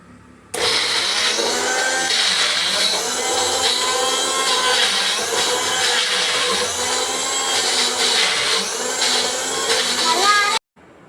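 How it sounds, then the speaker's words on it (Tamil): A blender grinds fruit loudly and steadily for about ten seconds, its motor pitch wavering slightly as the contents churn, then stops abruptly. "மிக்ஸிக்கு போட பிளெண்டர்ல போட போறோம்."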